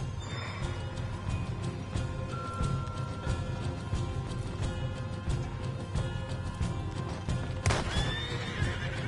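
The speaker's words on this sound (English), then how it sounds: "you get them horses free, Martha." Horses whinny and neigh repeatedly over a steady clatter of hooves in the video game Red Dead Redemption 2, with a sharp crash near the end; busy and loud throughout.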